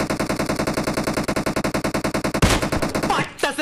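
Rapid automatic gunfire from the battle royale game BGMI, a steady burst of loud shots in quick rhythm for over two seconds, then a sharp impact and trailing effects.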